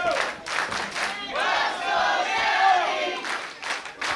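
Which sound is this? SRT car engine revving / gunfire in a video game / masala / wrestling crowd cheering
wrestling crowd cheering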